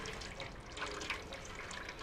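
Water trickling and splashing in a cat's water bowl in the video game Stray, a steady, soft liquid wash with faint drips and no voices.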